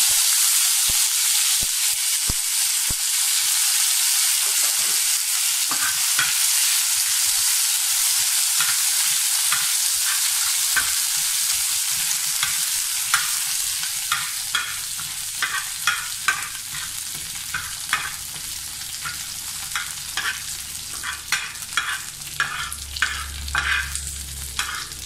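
Curry leaves dropped into hot oil in a pan for Kerala beef fry, a loud steady sizzle close up with occasional crackles and pops, and stirring clinks growing toward the end.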